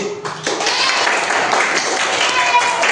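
A primary-school class claps together during a social studies lesson, a dense patter of many small hands filling the room over a teacher's voice and children's chatter.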